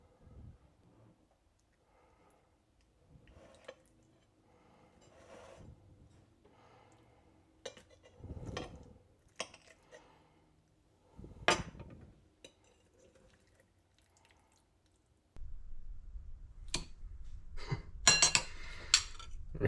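A utensil cuts into and lifts a slice of tuna salad, giving sparse, close clinks and scrapes of cutlery against a dish, with a busier clatter near the end.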